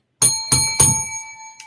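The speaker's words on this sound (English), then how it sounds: "Can we get a bell on that?" A small bell is struck three times in quick, even succession at a Black History Month celebration event. Each ring is bright and ringing with a short decay, followed by a faint fourth tap, with no voices.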